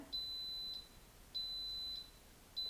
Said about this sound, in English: Why is it beeping again?